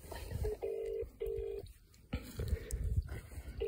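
A phone on speakerphone plays a dialing tone: several steady beeps broken by short gaps, loud and close, with room murmur and brief bumps beneath.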